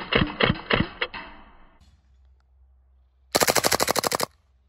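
An Elite Force Glock 18c gas airsoft pistol fires in two close, loud bursts: a few sharp spaced shots first, then after a pause a rapid full-auto string of about ten cracks.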